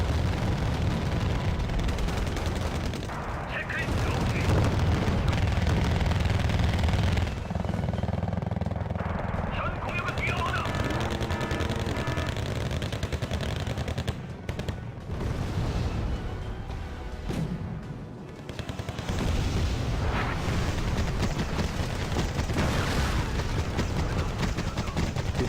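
Tank battle in Wargame Red Dragon, with South Korean K1 tanks defending against a North Korean push: dense, continuous gunfire and booming explosions fill the scene, with brief lulls, under a commentator's voice.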